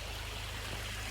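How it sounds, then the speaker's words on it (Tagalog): A river flows in a steady, continuous rush of running water, close by and unbroken, with no voices over it. "Ganda na yung ilog."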